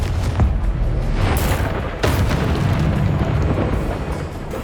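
Blasting fire-spell explosions from the Confringo curse in Hogwarts Legacy, a loud, dense rumbling boom that swells with sharp bursts near the middle and holds steady, with no voices over it.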